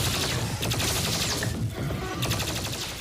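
A BFG 10K weapon fires repeatedly in a 3D Doom game, a dense, continuous roar of rapid explosive bursts and crackling impacts, loud and sustained without pause.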